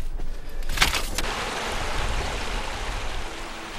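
Clear stream water rushes steadily as paper mulberry bark is washed to make traditional hanji paper, with a short burst of splashing early on over the constant flow.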